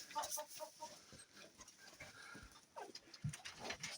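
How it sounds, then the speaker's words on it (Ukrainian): Chickens cluck softly now and then amid a quiet farmyard background, the sounds faint and scattered. "Курічки рубають, а?"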